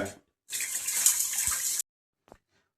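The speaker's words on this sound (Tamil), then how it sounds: "இட்லி குண்டால கொஞ்சம் தண்ணி ஊற்றிங்க." Water poured into an idli steamer pot, a steady splashing pour of about a second and a half, close and alone, followed by a brief clink.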